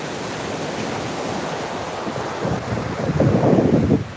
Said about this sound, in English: We are live on Juno Beach in Florida on the Atlantic Ocean.